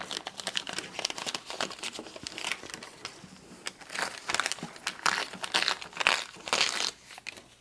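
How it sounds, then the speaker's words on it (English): Paper foundation being gently peeled and torn away from a pieced quilt block, giving steady crinkling and soft ripping sounds in irregular bursts, close and fairly quiet, with no talking. "So you just gently take off the paper foundation."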